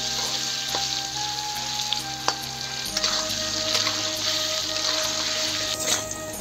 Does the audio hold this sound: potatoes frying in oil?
yes